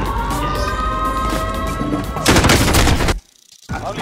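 Rapid bursts of automatic gunfire from a Call of Duty match on Rebirth Island, a loud sustained volley of shots with crashing impacts, cut off abruptly into near silence before game sound resumes.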